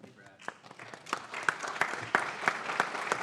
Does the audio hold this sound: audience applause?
yes